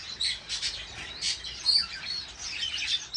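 Pet finches kept indoors chirp and tweet continuously, a busy overlapping chatter of small bright calls close by with no voices.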